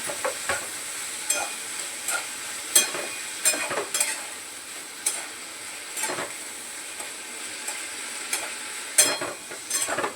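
Broad bean pods with green chilies and salt sizzling in a hot pan while a spoon stirs and scrapes through them, a steady close frying hiss punctuated by regular clacks of the utensil.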